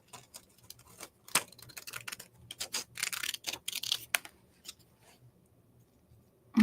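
Scissors cut through patterned paper near a flower design during close-up papercraft, producing a quick run of crisp snips and rustles that trails off into quiet.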